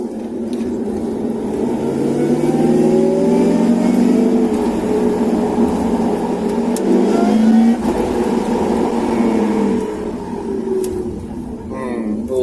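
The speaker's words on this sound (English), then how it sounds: "More supercharger noises," A supercharged car engine revs while cruising, a loud close mechanical drone with whining pitch sweeps rising and falling across the whole stretch.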